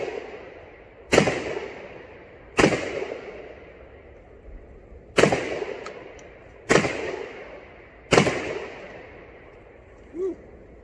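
A Fed Arms FX4 shotgun fired at a plate target outdoors, five loud sharp blasts spaced about one to three seconds apart, each with a decaying echo, close to the listener.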